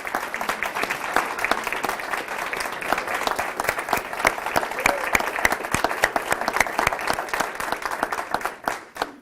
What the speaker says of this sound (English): I think the teachers deserve a round of applause, actually.